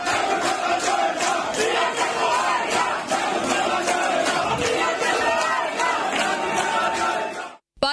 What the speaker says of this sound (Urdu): یوتھ کوارڈینیٹرز نے مریم نواز اور حمزہ شہباز کے حق میں نعرے بھی لگائے